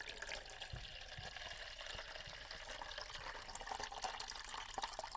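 Water pouring into the tray of a smart pet water fountain, a steady trickling and splashing that runs the whole time at moderate level with no talking.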